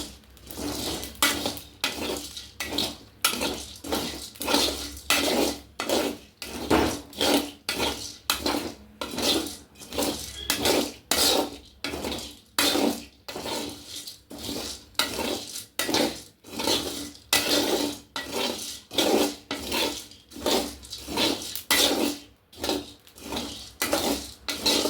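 Washed rice roasts in a pan, with dense rhythmic scraping and rattling as it is stirred back and forth, a long repeating pattern of strokes close by, with no talking.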